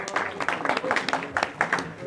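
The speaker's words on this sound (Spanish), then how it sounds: "un aplauso para ustedes" An audience at an architecture session claps briefly, scattered sharp claps heard under and between speech.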